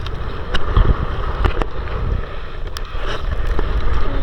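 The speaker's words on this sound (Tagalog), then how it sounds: "lumakas na naman ang hangin, amihan" Strong northeast monsoon wind buffets the microphone in a continuous low roar, with gusty swells and occasional knocks, like being out on open water during net fishing.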